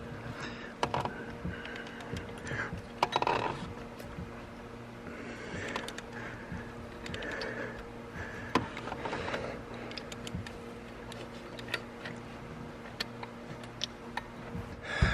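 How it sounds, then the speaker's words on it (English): A 24 mm socket and ratchet work loose a pulley bolt on a Porsche Cayman engine, with a string of small close metallic ticks and clicks at an uneven pace over a low background hum. "with our 24 millimeter socket, we're gonna grab on here and start loosening"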